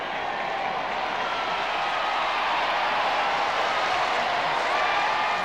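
A large VE Day crowd outside the palace balcony cheers and claps for the King and Queen, a steady, distant roar of massed voices and applause with no break.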